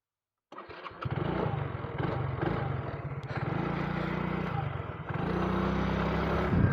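A Mahindra Rodeo SX 125cc scooter engine starts up and runs close and loud, its steady putter rising and dipping with the throttle, with no talking over it.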